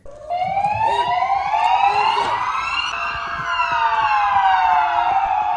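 A commemoration siren sounds at 9:05 on 10 November in Konya, a loud, sustained wailing tone that rises and falls steadily across the whole stretch with no voices over it.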